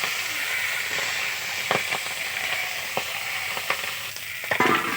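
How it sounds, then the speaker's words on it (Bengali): Fish frying in a very hot wok, a loud continuous sizzle and hiss of oil with scattered sharp pops and crackles, heard up close with no talking. "ভেজে নিই মাছটা।"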